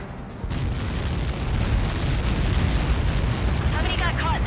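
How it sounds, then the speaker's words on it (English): A huge explosion impact in the video game Ace Combat 7: Skies Unknown, a sudden loud boom that swells into a long, dense, roaring rumble filling the scene, with radio chatter faintly beneath. "How many got caught in that explosion?"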